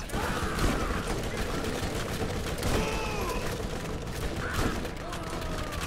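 Gunfire from the Borderlands video game crackles in repeated bursts and impacts throughout, mixed with hectic game effects, while players' voices talk over the action.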